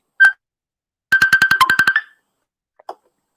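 A phone ringtone sounds loud and close: a single short tone, then a rapid burst of about a dozen quick electronic beeps, followed by a faint brief blip after a pause.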